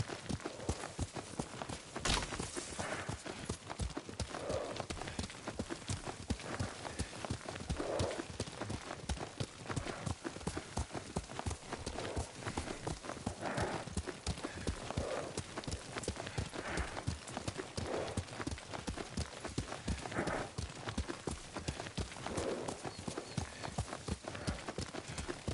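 Horse hoofbeats from a ride in the video game Ghost of Tsushima, a steady, continuous clip-clop that stays even and fairly close for the whole stretch, with faint background voices here and there.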